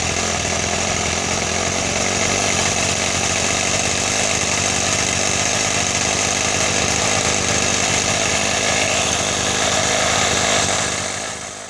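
A small live diesel engine on a garden railway locomotive runs steadily with a rough, buzzing drone, loud and close, holding an even pace before easing slightly at the end as its speed is turned down.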